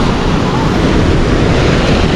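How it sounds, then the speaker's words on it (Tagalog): A steady sea breeze blows along the coast of the West Philippine Sea in Ilocos Sur, a continuous loud rush of wind buffeting the microphone over the dull roar of surf. "Simoy ng hangin."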